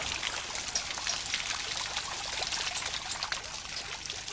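Water streams and trickles steadily through a water clock mechanism with an escapement wheel, a continuous close pouring splash with no talk.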